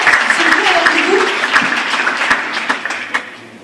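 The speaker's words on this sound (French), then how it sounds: "on peut les applaudir" Audience applause at a New Year's wishes ceremony, a steady dense clapping that carries on throughout, with a few voices murmuring underneath.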